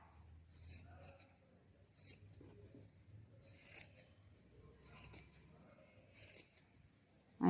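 Scissors snip through paper during a rakhi craft activity, four or five separate bursts of crisp cutting spaced about a second apart, close and fairly quiet with no talk.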